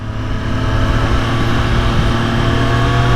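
A 2024 Triumph Street Triple R motorcycle engine revs steadily and loudly up close, a sustained dense mechanical drone with strong low harmonics held for a few seconds with no talk.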